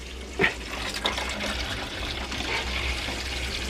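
Water gurgles and trickles continuously through a water filtration canister with a few small bubbling pops from escaping air, a soft steady flow close by.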